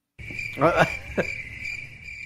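A cricket-chirping sound effect gives a steady, high, continuous trill, with a short spoken voice briefly overlapping it.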